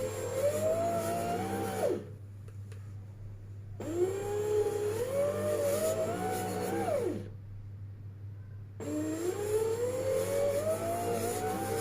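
A Tefal bread machine kneads pizza dough with a steady motor whine that rises in pitch, cuts out twice for a couple of seconds of pause, then starts again, close and even, with no talking.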